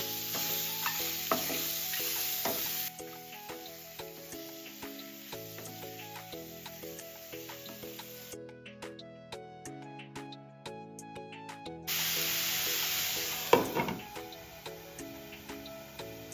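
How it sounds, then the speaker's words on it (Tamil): Chicken marinated in turmeric and salt goes into a pan with no oil, giving a steady sizzle with scattered stirring scrapes and clicks over a constant tonal background, louder near the start and end. "இந்த சிக்கனை எடுத்து இந்த பேனில் சேர்த்துருவோம் எண்ணெயெல்லாம் சேர்க்க வேண்டாம்"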